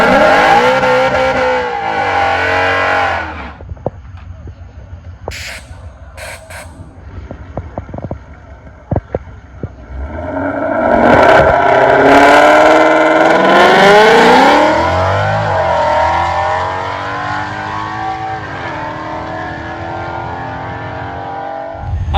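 A 2017 Mustang GT fitted with a nitrous system roars through a burnout on a drag strip. The engine revs hard and rises with screeching tires, then its howl slowly fades into a lower, receding drone.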